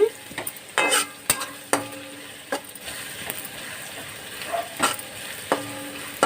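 Onions fry in a pan for fish curry gravy, a close sizzle broken by repeated scraping stirs and clinks of a spoon against metal at an uneven pace, with no one talking.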